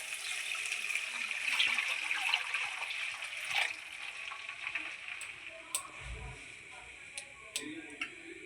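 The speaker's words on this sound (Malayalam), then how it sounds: "നമ്മൾ ഈ മെഷർമെൻറ്റ് കപ്പിൽ 1 കപ്പ് വെള്ളം ഒഴിച്ച് കൊടുക്കുന്നുണ്ട്." One cup of water is poured into a measuring cup for wheat rava upma, a steady splashing trickle lasting a few seconds, followed by scattered light taps and clinks in a kitchen.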